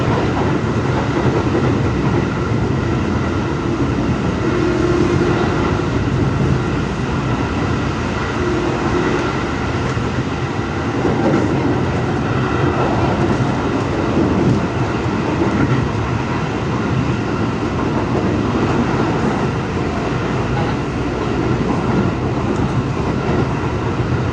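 An Indonesian KRL commuter train runs from Jatinegara station, heard from inside the carriage as a loud, continuous rumble and roar of wheels on track with faint rhythmic clatter.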